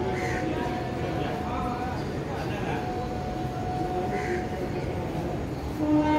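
Bhagalpur–Ranchi Express, a passenger train, pulls out of the large Ranchi railway station in Jharkhand, giving a steady low rumble of rolling wheels and rail noise that runs through the whole stretch, with faint station ambience and thin tonal whines over it.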